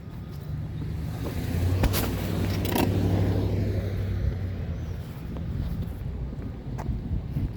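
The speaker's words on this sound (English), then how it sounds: "lot of traffic around here on a Tuesday" Cars pass on a nearby road in a steady low roar that swells and fades, mixed with gusty wind buffeting the microphone; no one speaks.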